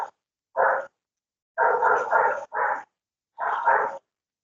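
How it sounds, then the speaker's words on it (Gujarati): Dogs bark in loud, close bursts: a single bark, then a run of three quick barks, another, and a final pair, with short silences between them. "કૂતરાઓનો બહુ અવાજ આવે."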